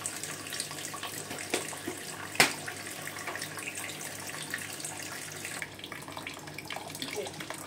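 Water runs steadily from a tap while clothes are being washed by hand in a home, a continuous broadband splashing stream with a few sharper clatters, close and fairly loud, quieting a little near the end.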